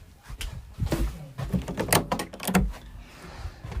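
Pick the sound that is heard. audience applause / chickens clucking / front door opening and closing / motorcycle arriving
front door opening and closing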